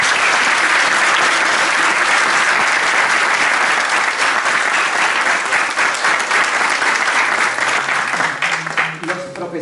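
A large audience of engineering students at a university induction event claps loudly and continuously, a dense close wash of applause that thins out near the end.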